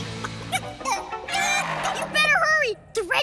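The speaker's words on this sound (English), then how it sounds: "The red chicken's gonna be here in 6 seconds." A cartoon chicken in a children's show clucks and squawks in a quick burst of bright, warbling calls, close and loud, over a short stretch of background music.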